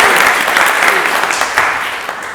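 An audience at an improv class student showcase claps for the class assistant, a loud, dense burst of clapping that holds steady throughout.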